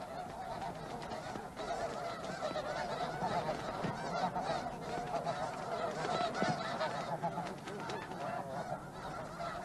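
A colony of geese honks continuously in the open, many overlapping calls forming a dense, noisy chorus at moderate distance with no pause throughout.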